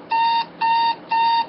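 An alarm clock rings in three steady bursts of electronic beeping, each about a third of a second long with short gaps between, loud and clear against a quiet room.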